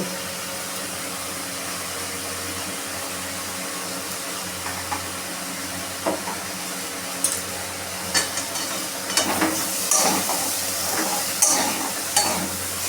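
Potatoes with a pinch of sugar and poppy seeds frying in a pan for a Bengali alu potol bhaja, a steady sizzle with occasional stirring scrapes and clinks growing busier toward the end.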